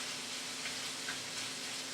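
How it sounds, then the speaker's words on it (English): Beef steaming and sizzling in a hot pan with a little water added, a steady close hiss with faint crackle throughout and no talking. "you can put a little bit of water in here, and that will help to steam the beef"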